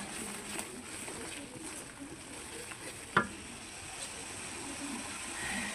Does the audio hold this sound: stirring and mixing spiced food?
yes